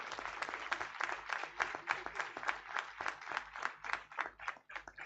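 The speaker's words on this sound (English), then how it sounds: "Can we have a big round of applause to all our rank holders?" Graduation audience clapping for rank holders, a dense, steady patter of many hands, fairly quiet and distant, continuing evenly for about five seconds.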